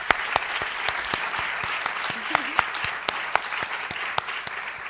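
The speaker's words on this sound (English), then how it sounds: "And I just wanted to give her a round of applause for" Steady audience applause in a conference hall honoring a Harvard doctoral program founder, dense continuous clapping with sharp individual claps popping through, fairly close and sustained throughout.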